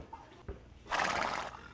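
A horse on Tingloy Island in the Philippines gives a loud, shaky whinny lasting about half a second, close by, after a short quiet stretch with faint background noise.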